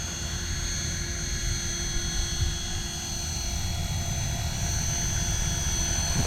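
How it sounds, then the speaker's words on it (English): A Trex 450 V2 clone flybar RC helicopter buzzes steadily with a whining rotor drone and high-pitched motor tones, constant and fairly close, no voices. "This is an old school 450 flybar helicopter."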